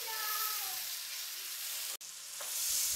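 Chicken pieces frying in a pot for biryani, a continuous hissing sizzle close by with faint stirring, briefly cut by a short gap before the frying noise resumes alone.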